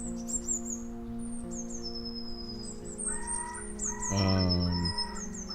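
Birds chirp and squawk through speakers in a video game, giving high repeated calls over a low steady hum, then a louder burst of clucking fowl-like calls near the end, with no talking.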